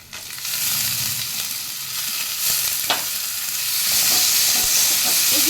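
Diced potatoes drop into a hot pan with oil and curry leaves and begin frying, a loud continuous sizzle building in intensity with a few sharp crackles and stirring scrapes, no speech.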